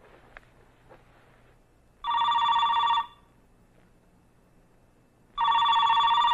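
An old-style telephone bell rings in two loud, steady bursts about a second long, separated by a few seconds of quiet room tone indoors.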